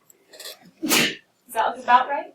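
A single sharp sneeze bursts out in a classroom during a calculus lesson, with brief talk just before and after it.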